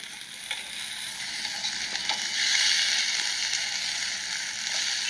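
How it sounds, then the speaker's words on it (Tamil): Ridge gourd sautéing with tamarind and chillies in a pan, a steady loud sizzle with faint stirring scrapes throughout, no talk. "புளியவும் அதுலேயே சேர்த்து வதக்குறேன்"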